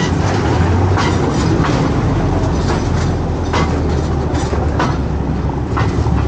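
Rustic Ecuadorian railway train running through the jungle near Esmeraldas, a loud continuous rumble with regular clickety-clack wheel beats heard up close from aboard, without talk.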